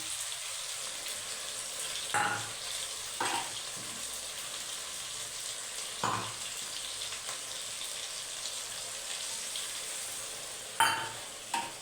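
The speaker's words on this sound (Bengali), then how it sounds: "এটা ভালো করে ভেজে তোমাদেরকে দেখাবো" A paste of coriander, cumin, chilli and turmeric powders fries in oil with tomato while it is stirred, giving a close, steady sizzle broken by a few louder stirring scrapes.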